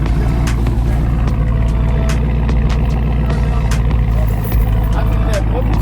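A Mopar 392 V8 with straight pipe exhaust at a muffler shop: a loud, deep, continuous engine rumble with scattered sharp knocks and clatter over the top, and talk mixed in.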